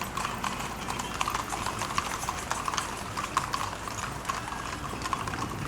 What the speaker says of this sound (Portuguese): Romeiros cavalgam em fila. Cada um deles carrega um segundo cavalo ao lado.